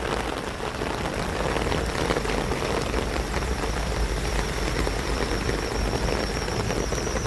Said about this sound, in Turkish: Yağmur yavaşladı.